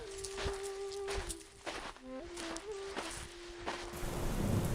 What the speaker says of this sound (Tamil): அந்த ஊர்ல மழை பெய்ய ஆரம்பிச்சது